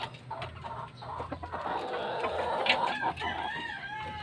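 Backyard chickens clucking and a rooster crowing on a rural Filipino farm after days of heavy rain, with busy overlapping calls from a flock at close to middle distance and no talking.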